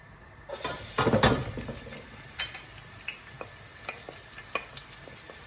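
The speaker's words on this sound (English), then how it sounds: "we're going to put some garlic and some onion into the oil" Garlic and onion dropped into about three tablespoons of hot oil in a pan: a sudden burst of sizzling that settles into a soft, steady frying crackle with occasional small pops, close by and fairly quiet.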